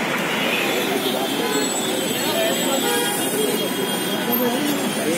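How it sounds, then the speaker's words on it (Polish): Street traffic in Jaipur, India, where several car horns toot and honk repeatedly over a busy, steady roar of buses, cars and engines, with faint voices mixed into the crowded din. "jak zwykle to w Indiach, trąbienie, przepychanie się, wciskanie w pełnej okazałości"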